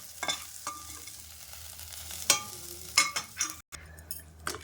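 Raw tamarind pachadi being stirred in a pan, with a handful of separate scraping, clattering strokes against the pan over a soft sizzle and a brief pause.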